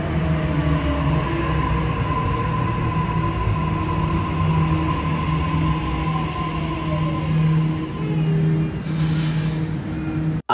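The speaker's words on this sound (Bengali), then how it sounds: "আজ আমরা যাচ্ছি ট্রেনে করে।" A train in motion gives a continuous, close rumble with a low steady hum and faint rail rattle throughout, with no one speaking.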